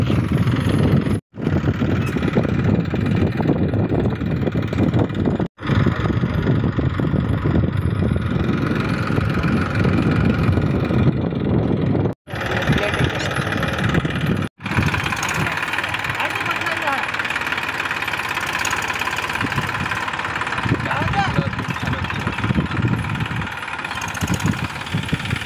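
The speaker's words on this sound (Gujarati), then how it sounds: "બાલાજી ટ્રેલર છે અને મેસી ટ્રેક્ટર।" A Massey tractor hitched to a Balaji trailer runs on a farm, its loud, steady engine drone filling the whole stretch, broken by a few abrupt cuts.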